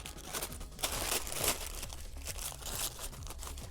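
Masking tape peeling off a freshly painted Boba Fett jet pack, giving a steady near crackle of crinkling, tearing strips with a few louder rips, heard alone.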